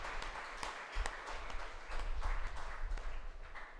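A church congregation claps together in thanks during a service, a faint, fairly dense ripple of hand claps that swells slightly toward the middle and carries on to the end.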